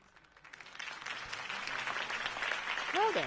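Crowd applause breaks out after a campaign speech for Harvey Dent, a dense wash of clapping that swells steadily and holds loud, with faint voices mixed into the crowd.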